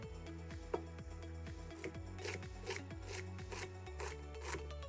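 A knife chops celery sticks on a wooden board while clam chowder ingredients are prepared, giving a quick, steady run of close, quiet knocks and scraping strokes.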